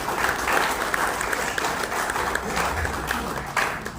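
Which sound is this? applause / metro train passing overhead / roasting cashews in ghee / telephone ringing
applause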